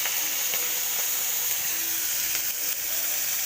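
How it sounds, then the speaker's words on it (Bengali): Shrimp frying in a pan, giving a steady broadband sizzle that holds evenly throughout, close and fairly loud, with faint clinks and no talk. "এই চিংড়ি মাছটা ভাজবো"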